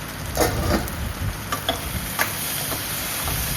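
Spices (turmeric, salt, red chilli, ground coriander) being stirred into bottle gourd in a pan: a soft, steady sizzle with a few scraping spoon strokes, close and moderately quiet, no talking.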